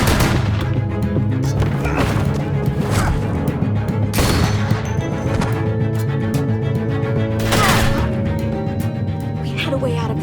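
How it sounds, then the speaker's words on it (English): Repeated gunshots ring out in The Walking Dead Telltale game, several loud sharp bangs spaced irregularly over a droning background, with voices talking between them. "I hear gunfire."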